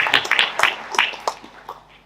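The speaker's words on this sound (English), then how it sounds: "can we clap to congratulate the ladies?" Audience at a conference clapping to congratulate the women present, a short burst of sharp, close applause that thins out and fades within two seconds.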